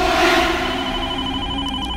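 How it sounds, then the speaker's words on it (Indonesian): A telephone rings steadily in a radio horror drama, the electronic bell tone sustained and fairly loud across the whole short stretch with no talk over it. "Baru saja aku tutup, telepon itu berbunyi lagi."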